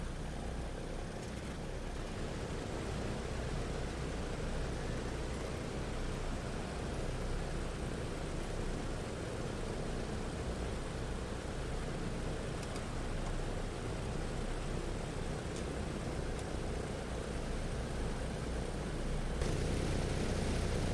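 A PMDG DC-6 piston engine in Microsoft Flight Simulator cranks and runs with a loud, continuous propeller drone that fills the whole span without break.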